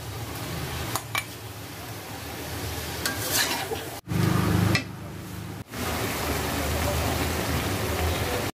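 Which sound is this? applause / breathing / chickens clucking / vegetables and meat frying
vegetables and meat frying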